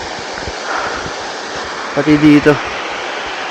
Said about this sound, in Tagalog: Ang ganda ng agos ng tubig ngayon.